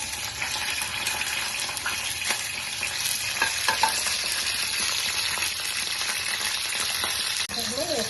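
Curry leaves frying in hot oil for a tomato and cucumber roti chutney, a continuous close-up sizzle and crackle with light stirring scrapes throughout.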